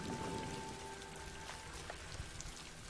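Heavy rain pours steadily during a storm in an animated Tinker Bell film, with a dense, even hiss of falling water and a faint tonal hum beneath, with no voices.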